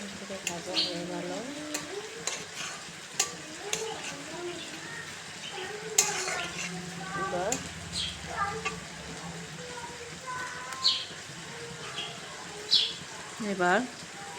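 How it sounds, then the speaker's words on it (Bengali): Ground spice paste sizzles in a hot pan for chicken curry while it is stirred, a steady frying hiss with scrapes of the spoon, as a voice talks intermittently over it and birds chirp faintly. "বাটা মশলা দিয়ে একটু ভালো করে নাড়াচাড়া করে নিয়ে"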